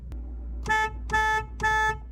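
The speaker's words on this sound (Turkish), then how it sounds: "Aracımızın da böyle bir kornası bulunuyor." Three evenly spaced car horn honks from a Hyundai i20 1.4 MPI, each about a quarter second long, loud and close, after a faint click.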